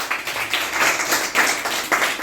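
A classroom of students at a school claps loudly together, a dense, steady patter of many hands at close range that carries through the whole stretch with small swells.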